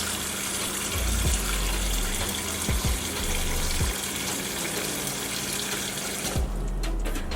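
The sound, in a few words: tap water running over fresh fish in sink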